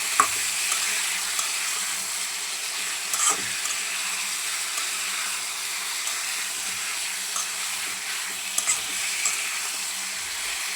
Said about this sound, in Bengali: একটু লবণ দিয়ে ফুলকপিটা বাইজে নিতেছি।